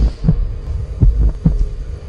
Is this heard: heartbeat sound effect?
yes